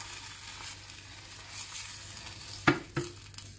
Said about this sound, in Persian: بعد از اینکه گردو رو تفت دادیم حدود 4 پیمانه آب سرد بهش اضافه میکنیم